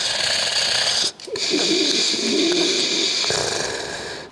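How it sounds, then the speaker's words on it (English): Loud, rough breathing close to the microphone, a steady raspy rush of air with a brief pause partway through. "Can you just hear me breathing?"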